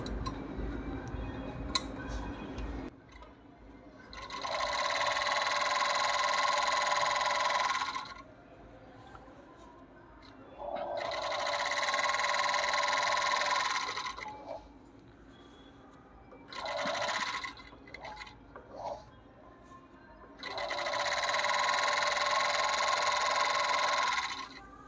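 An overlock machine with no cutter stitches fabric in four bursts of fast, buzzing whir, each lasting a few seconds and separated by quiet pauses, fairly faint and heard alone.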